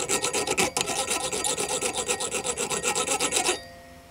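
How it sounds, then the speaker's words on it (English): The file on a SOG Power Assist multi-tool is rubbed back and forth in rapid, even rasping strokes, loud and close, for about three and a half seconds before stopping abruptly, with no voices. "And the first one is you have a file"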